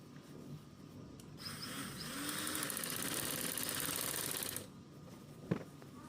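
A sewing machine runs a straight stitch along a shalwar seam in a steady, fast mechanical whirr for about three seconds, then stops with a small clunk, at a close but quiet level.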